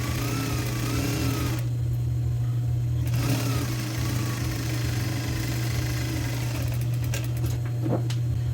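Sewing machine stitching the center back seam of a woman's blouse, a steady close mechanical hum with a constant motor drone and light rattling throughout.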